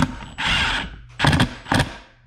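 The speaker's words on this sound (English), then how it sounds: "You see that nut squishing in?" A homemade rivnut installation tool crushes a threaded insert nut into place, giving a few short bursts of grinding, creaking mechanical strain with brief pauses between squeezes.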